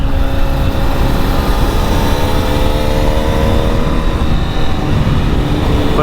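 Engine of a 2025 Honda CB1000SP motorcycle while riding, a steady loud drone with wind rush and slight throttle variation, continuous throughout.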